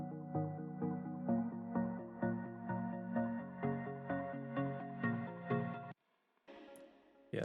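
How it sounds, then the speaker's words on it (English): Bright plucked synth bell notes repeat in a steady rhythm with a ringing tail, then stop abruptly before a short burst of another sound. "Let's hear the bell pluck."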